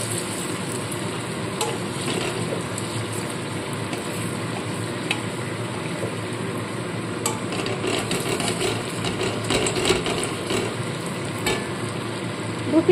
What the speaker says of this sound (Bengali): দু পিঠটাই সুন্দর লালচে করে ভেজে তুলে নেব